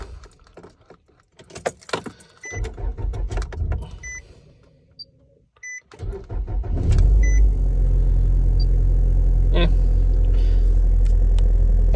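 An older high-mileage car with a rattling, slapping timing chain, keys jangling and a few chimes before the engine cranks and catches, then idles steadily with a loud low drone; a voice speaks briefly early on.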